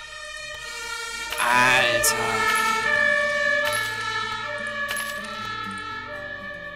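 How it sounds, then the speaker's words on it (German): Emergency sirens wail in the Railway Empire strategy game, rising and falling tones sounding fairly clearly over a low game background, with a brief spoken word. "Ich höre schon wieder Sirenen."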